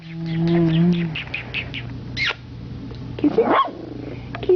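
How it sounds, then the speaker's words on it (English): A dog at home gives a steady whining tone, then a scatter of short yips and squeaky vocalizations over a constant low hum, fairly close. "Oh, it's a tough dog."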